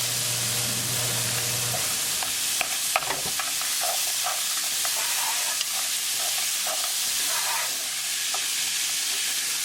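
Corn frying in a pan with a spice tadka and being stirred, a steady loud sizzle with scraping stirs and light clicks throughout, close up and without talk.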